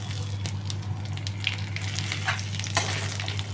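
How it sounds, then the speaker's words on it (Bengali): Whole spices, cumin, bay leaf, dried red chilli and crushed garam masala, fry in hot oil for tempering with a steady close sizzle, scattered crackles and occasional stirring scrapes over a low hum. "মশলাটা একটু ভালো করে ভাজা ভাজা হতে হবে।"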